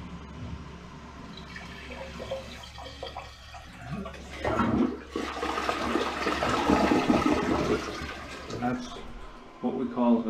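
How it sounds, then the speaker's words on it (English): A toilet flushes loudly up close during a drain-cleaning job, its rushing swirl building and churning for several seconds before tapering off, with a voice heard briefly over it. "what we call a good flush"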